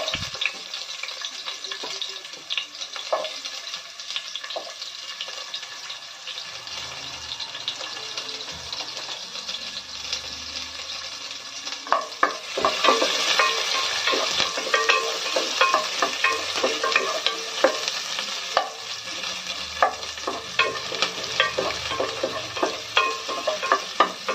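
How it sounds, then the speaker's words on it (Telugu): Onions fry in hot oil with a continuous crackling sizzle that swells louder about halfway through, accompanied by scattered stirring clicks and no speech. "ఆయిల్ కొద్దిగా వేడైన తర్వాత ఉల్లిపాయలు వేసుకుంటున్నాను."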